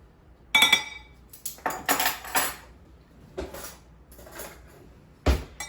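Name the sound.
mixing cinnamon filling with a fork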